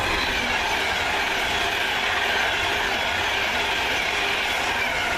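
Pendolino train rushing past close by, a loud, continuous roar of wheels and rails that holds steady throughout with no talk.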